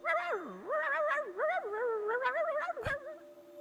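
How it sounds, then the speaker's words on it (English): High, whimpering dog-like voices of a video game's dog characters, a close run of yips and whines with rising and falling pitch across a few seconds, alone and fairly quiet. "Oh my god, they have dog voices."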